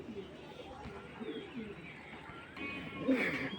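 Pigeons from a pair kept for sale coo softly amid a general mix of nearby bird sounds, with a louder, closer coo near the end.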